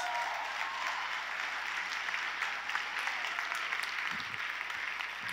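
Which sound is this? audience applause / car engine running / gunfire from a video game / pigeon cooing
audience applause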